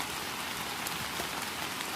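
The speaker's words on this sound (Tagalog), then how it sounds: "Lumakas ang ulan at hindi tumigil." Heavy rain pouring steadily, a dense unbroken hiss of drops drumming on surfaces, loud and close.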